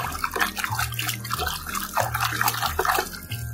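Water splashes and runs steadily over a toy T-Rex dinosaur as it is washed, a continuous wet wash with faint tonal background sounds and no talking.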